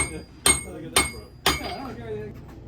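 Three sharp metallic blacksmith hammer strikes on a steel tool ring out at an even pace, each with a bright clang and a short ringing decay, close and loud.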